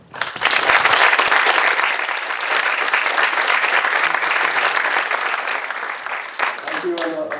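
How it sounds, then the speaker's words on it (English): A conference panel audience on business development gives a round of applause, a dense, loud burst of clapping sustained for several seconds before tapering off, with a voice emerging at the end. "Let's give a round of applause."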